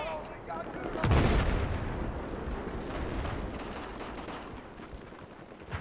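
Gunfire in Battlefield 4: one heavy shot or blast lands near the start, then softer scattered shots and rumbling battle noise continue.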